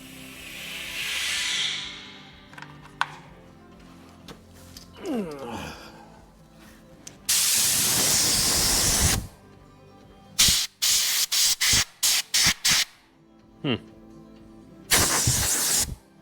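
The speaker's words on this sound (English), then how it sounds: "I want to go and just blow that out real quick with the air blower thingy" Compressed air blower blasting out a Toyota Tundra truck part, heard as several loud broadband hissing bursts: one long blast, then a run of short rapid spurts and a final burst, with quieter handling noises between.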